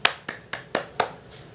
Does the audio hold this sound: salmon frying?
no